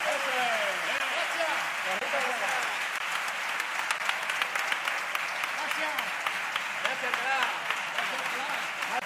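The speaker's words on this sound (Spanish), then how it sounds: "mucha gente se ha puesto de pie para aplaudir a esta comparsa, Álvaro" Sustained applause from a carnival audience in Alcalá greeting a comparsa, with dense continuous clapping throughout and a few sharper claps, while a voice talks over it.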